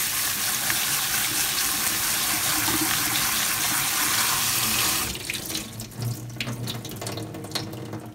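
Fresh noodles and mushrooms rinsed under a running kitchen tap, a loud steady gush of water into the sink for about five seconds, then softer splashing and handling as the flow changes.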